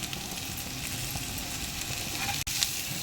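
Onions, curry leaves and mint leaves fry in a pan with a steady, close hiss and crackle that holds throughout, with a slight stir sound near the end.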